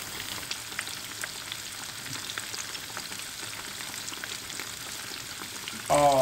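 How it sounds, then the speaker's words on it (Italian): Breaded cutlets fry in olive oil with a steady, crackling sizzle and scattered pops that hold at an even, moderate level, ending with a sudden louder clatter near the end. "Mettiamo a friggere in olio d'oliva che abbiamo preso prima."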